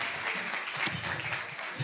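Steady applause from a group, continuous clapping without pause across the short stretch, fairly loud and close.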